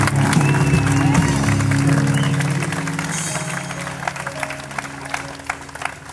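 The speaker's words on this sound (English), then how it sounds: "Let's give them a round of applause." A rally crowd claps and cheers loudly outdoors, a dense steady applause that slowly fades and thins out toward the end.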